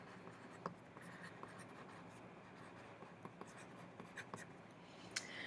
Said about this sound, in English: On the back, write your name.